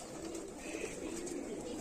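Soft, throaty cooing from pigeons hums steadily for a moment, a low rolling murmur with no talking.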